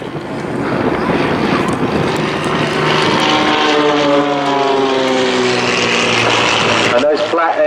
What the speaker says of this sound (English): Flat 6 engine like a Porsche Boxster.